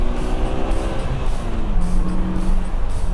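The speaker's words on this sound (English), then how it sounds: "so 0 to 60 test here in the Slingshot. I've got traction control on. I'm just gonna mash it and see what happens." A 2020 Polaris Slingshot R launches hard in a 0 to 60 run with traction control on. The engine roars loudly and steadily, its pitch climbing, then drops at a gear shift before rising again.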